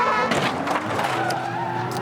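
Race car running wide onto loose rubber debris, a broadcast-style mix of engine roar and scrubbing tire noise, steady and fairly loud with short skidding bursts.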